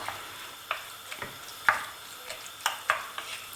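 Spices (paprika, cumin, salt and a little chilli) are stirred into Moroccan mechouia salad in a pan, giving a soft low sizzle broken by a few light utensil taps and scrapes.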